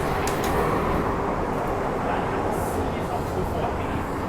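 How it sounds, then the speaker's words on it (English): A Hong Kong Generation 2B train gives a continuous close rumble and rush, as if heard from inside a carriage, steady and fairly loud with a faint murmur of voices underneath. "We got a Generation 2B train here, which is very cool."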